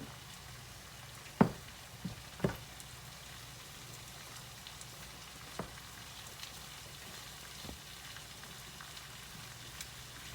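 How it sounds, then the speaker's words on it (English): Pork chops frying in a pan, a faint, steady sizzle and crackle close by with a few sharper pops and taps. "That's my last batch of pork chops over there cooking."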